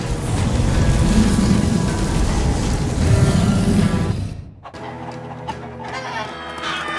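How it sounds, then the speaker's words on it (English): Chickens cluck loudly and continuously in the video game Minecraft: Story Mode, then the clucking drops away into quieter game sounds with a tonal backdrop. "chickens?"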